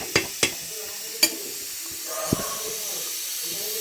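Fish frying in a pan, a steady sizzle with a few sharp clicks and clatters of a spatula stirring, close by and moderately loud, with no talking.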